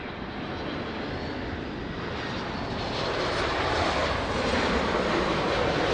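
A passenger airplane landing at Lisbon Airport, a broad steady roar of engine and air noise that swells gradually louder across several seconds, heard from a distance with no voices.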